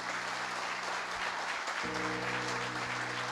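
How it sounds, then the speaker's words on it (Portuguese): A congregation at a church service applauds loudly and continuously, a dense wash of clapping, with a sustained low keyboard tone entering partway through. "Aplauda bem forte o Senhor."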